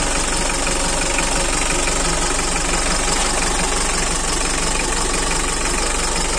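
A car engine idles loudly and close, a steady rumbling drone with faint rhythmic knocking throughout, no voices.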